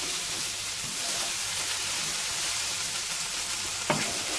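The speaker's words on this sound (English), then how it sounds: "I just like to just stir it in" A stir fry sizzles steadily in a Goodman's multicooker, a dense continuous frying hiss with faint stirring scrapes and a brief sharper knock near the end.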